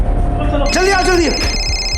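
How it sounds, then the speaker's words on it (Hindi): A telephone ringtone chimes faintly in the background of an indoor scene from a Mumbai crime drama, mixed with a short melodic phrase and nearby voices talking over it. "अरे ये फोन की आवाज आ रही कहीं से।"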